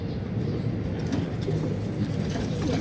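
Slate pigeons coo in a breeding loft, with soft repeated low coos layered over one another against a steady background hum, close and moderately loud, with no talk.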